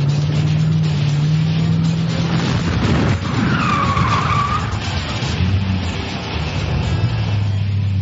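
A remote-controlled K.I.T.T. Mustang slides with its tires skidding, a sustained rough scraping roar with a rising squeal in the middle, loud and close over a constant engine drone.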